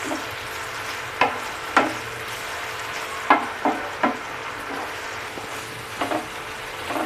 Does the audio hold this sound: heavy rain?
no